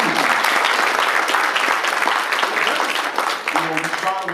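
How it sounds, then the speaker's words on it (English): A crowd at a high school football signing day claps loudly and continuously, a dense wash of applause with voices mixed in and some speech rising near the end. "Clap up for that"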